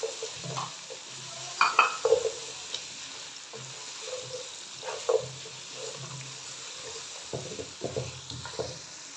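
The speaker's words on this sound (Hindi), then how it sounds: "लहसुन के साथ बीफ को 1 मिनट कुक करने के लिए" Beef sizzles with garlic in a karahi, a soft steady frying hiss broken by scattered stirring scrapes and clinks from the pan.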